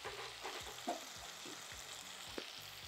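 Spices for an eggplant pulusu frying in a pan, a steady close sizzle with faint stirring scrapes and small pops, no talking.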